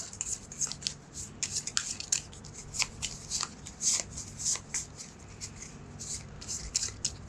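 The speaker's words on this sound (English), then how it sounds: "And then shuffle my discard." A discard pile of cards from the board game Keep The Heroes Out is shuffled repeatedly, a rapid run of close, crisp riffles and taps continuing steadily throughout over a quiet background.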